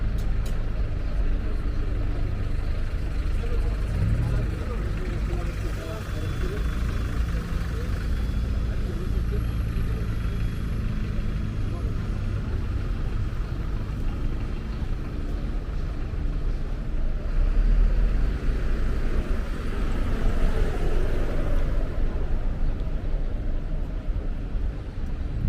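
Busy street traffic in Polanco, Mexico City, a steady, loud roar of passing cars and buses with constant low rumble and some wind buffeting, while a person talks over it.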